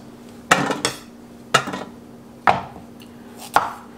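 A kitchen knife chops carrots into small oblique pieces on a board. Four sharp, evenly spaced thunks ring out about a second apart, close and clear, with no talking.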